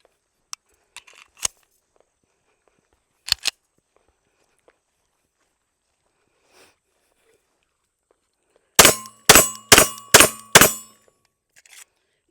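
A SAR K12 9mm pistol fires five sharp, loud shots in quick succession, close by, after a few earlier scattered clicks and handling taps in an otherwise quiet setting.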